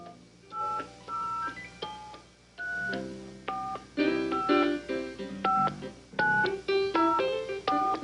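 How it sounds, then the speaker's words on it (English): Telephone dialing tones played as music on the Letterman show, a quick run of touch-tone beeps in an irregular melodic pattern, clear and prominent. "A little dialing music, Paul."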